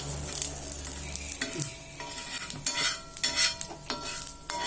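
Spice tempering with curry leaves and asafoetida in a hot pan, close spoon scraping and stirring over a crackling sizzle, with brief metallic clinks against the pan.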